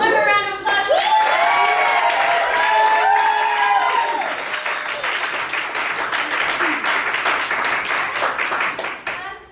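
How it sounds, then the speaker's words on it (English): Loud audience applause and cheering fill a comedy show venue, with whoops and shouts at the start that fade into steady, dense clapping from the crowd throughout. "One more round of applause."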